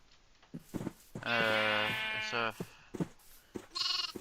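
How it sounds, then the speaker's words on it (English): A baby sheep in the Minecraft video game gives a long, wavering bleat, then a shorter one, with brief bits of speech around them. "the new baby variant of the sheep is here"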